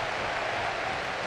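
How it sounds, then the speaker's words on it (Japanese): Spectators in the left half of Koshien stadium applaud during a summer high school baseball game between Meitoku Gijuku and Seiryo, a steady distant wash of clapping. "この拍手 甲子園の左半分から響いてきます。"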